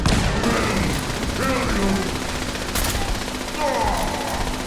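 Rifle gunfire in the game Fallout 76 during a Brotherhood battle, repeated sharp bursts and shots through the clip, mixed with a voice speaking over them.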